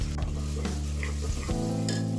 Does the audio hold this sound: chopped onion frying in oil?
yes